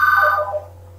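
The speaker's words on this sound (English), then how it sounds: "that was a phone" A phone rings indoors in one short electronic trill that fades out under a steady low hum.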